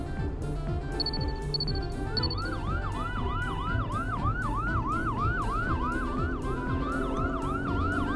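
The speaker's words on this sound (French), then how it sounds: "C'est maintenant le tour de l'ambulance." A cartoon ambulance siren wails in a steady, looping up-and-down pattern, loud and continuous over busy animated background music, with a few short chirps near the start.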